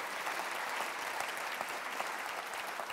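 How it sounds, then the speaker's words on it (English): A crowd claps enthusiastically, a dense continuous burst of applause that stays loud and even throughout. "Applause, please."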